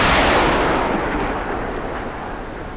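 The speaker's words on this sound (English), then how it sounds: "we're going to launch the missile" A submarine missile launch in the naval combat game Cold Waters: one loud, broad roaring blast that hits at once and then slowly trails off into a rumbling wash.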